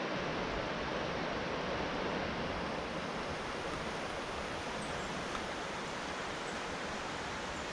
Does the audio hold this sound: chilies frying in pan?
no